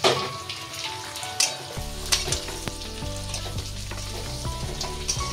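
Mixed vegetables tossed into a pan of lightly browned onions and spices, a loud close sizzle that swells as they land, with stirring scrapes and clicks over a steady frying hiss.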